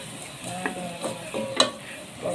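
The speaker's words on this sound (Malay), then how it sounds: "Tumis bagi garing." Curry leaves and curry powder sautéing in a pan for a Malaysian curry noodle dish give off a faint, steady sizzle, broken by soft scraping and clicking from stirring, with no talk.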